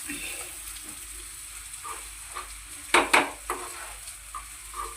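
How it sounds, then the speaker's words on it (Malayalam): Onion, salt and chili powder being stirred in a pan for dal fry, giving soft scraping strokes and a faint sizzle, with a few louder spoon scrapes near the middle; no talking. "ഉപ്പും കൂടി ഇട്ട് ശകലം മുളക് പൊടിയും കൂടെ ഇട്ട് ഇളക്കി കൊടുക്കാം."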